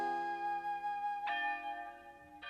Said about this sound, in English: But why are church bells ringing on Monday?